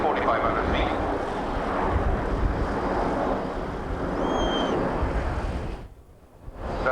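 A formation of aircraft flying past at an RAF Scampton airshow in 1989, making a steady broad engine roar and wind rush that fades out near the end as the jets move away.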